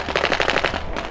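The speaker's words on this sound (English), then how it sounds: "If they refuse, then you can shoot them." A paintball gun fires a rapid burst of about eight sharp pops in under a second, close and loud, with no talk.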